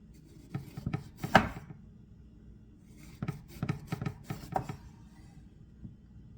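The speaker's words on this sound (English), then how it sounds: "Now, you're going to cut these about a 1/2 inch thick." Knife cutting an eggplant into thick half-inch slices on a board, several close chopping thuds in two bursts with quiet gaps between.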